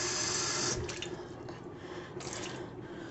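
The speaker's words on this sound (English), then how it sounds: "I'm going to add about a little over a cup of water." Water is poured into a crock pot for Sloppy Joe sauce. A close, short splashing pour gives way after a moment to a softer trickle and drips.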